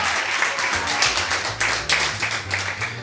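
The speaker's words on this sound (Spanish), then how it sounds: "Apláudame más fuerte, por favor" Studio audience at a Spanish television variety show applauds steadily, a dense, even wash of many hands clapping close and loud throughout, with no voices over it.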